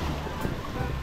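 Ocean waves wash onto a white-sand beach at Casiguran, Aurora, as a steady, close surf roar with wind buffeting the microphone.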